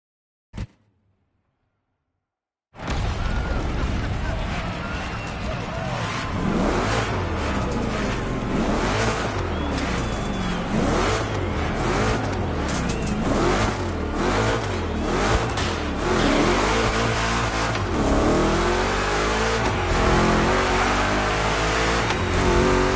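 Chevrolet 3100 Big Block Edition in The Crew Motorfest, a loud sustained engine roar that starts after a brief click and near-silence, then climbs and revs continuously for about twenty seconds with no talk.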